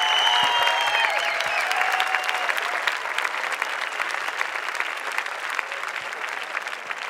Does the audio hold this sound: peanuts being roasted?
no